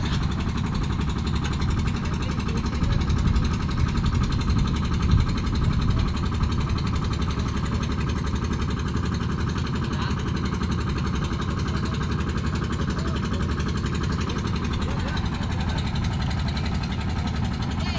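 Engine of a Basnigan fishing boat running steadily after heater fluid was added, a loud continuous low rumble with rattling texture that lasts throughout without change.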